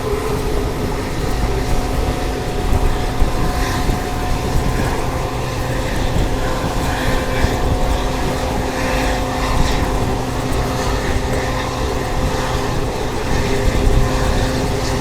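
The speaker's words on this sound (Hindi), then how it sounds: "साथ में स्पीड अप एक्सेलरेशन अपने लोकोमोटिव का जबरदस्त" A diesel locomotive in the Thar desert accelerates hard, its engine roar steady, loud and close, with dense rumbling and rattling running continuously without pause.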